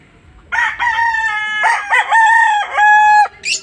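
Poultry-yard roosters crow loudly and close, several long drawn-out cock-a-doodle-doos following one after another, with faint clucking underneath and no talk.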